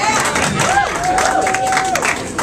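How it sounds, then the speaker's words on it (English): Concert audience applauding in a live venue in Cleveland after a band introduces its keys player, a steady broadband wash of clapping with crowd noise and a sustained whistle-like tone riding over it. "We usually clap a little louder for him, but not much."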